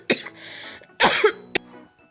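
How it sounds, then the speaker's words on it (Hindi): A woman coughs in two sharp bursts, the second longer and rougher with a throaty rasp, followed by a brief short cough, close and clear against a quiet room. "सॉरी मुझे खांसी आ गई थी।"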